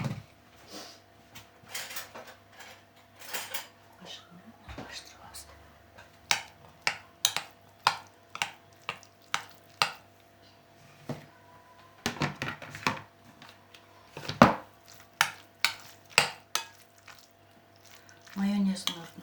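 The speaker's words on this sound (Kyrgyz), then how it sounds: "Эми майонез кошуп," A salad being stirred with mayonnaise in a bowl: irregular wet squishes and sharp utensil clicks against the dish, close and moderately loud, with a few quieter gaps.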